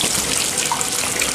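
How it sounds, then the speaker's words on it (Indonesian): Steady, loud rush of water pouring into a container from a tap, a continuous close splashing hiss with no pauses and no voices, while preparing a tank for snakehead fish. "kita isi airnya kurang lebih"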